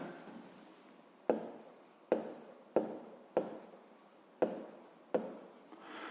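Pen strokes on paper while working a 5th-grade math exercise, a series of short scratchy taps and scribbles coming in quick bursts, close and quiet with no talking.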